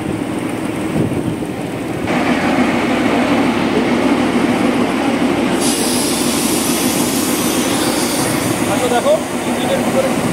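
Siliguri–Darjeeling toy train running, heard from inside its engine room: a steady, loud rumble of engine and rolling wheels with rattling and metallic squeal continuing throughout.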